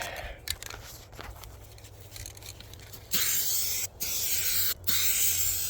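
A Rust-Oleum spray can fitted with a 5-in-1 custom fan nozzle sprays paint in steady hissing bursts, quieter at first, then louder with two short pauses between long blasts, close to the listener.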